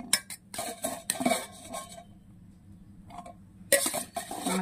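Cooked rice going into a pan of tamarind pulihora mixture and being stirred, with metal spoon scrapes and clinks against the pan in uneven bursts and a quiet pause in the middle.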